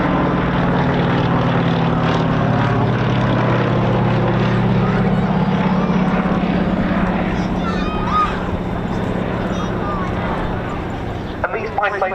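A Fairey Swordfish biplane, built by Blackburn Aircraft, drones past at an air show, its propeller engine a loud steady rumble under continuous commentary, easing slightly toward the end.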